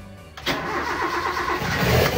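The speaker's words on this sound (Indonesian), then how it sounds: "Oke, sekarang kita langsung hidupkan mesin ya." A vehicle fitted with a CNG fuel regulator cranks and fires up, the quiet start giving way abruptly to a loud, close engine that settles into a steady running roar.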